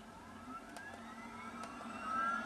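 A V-22 Osprey tiltrotor in Farming Simulator 17 spools up its engines, a steady droning hum with rising whine tones that grows slightly louder toward the end, with a couple of faint clicks mixed in.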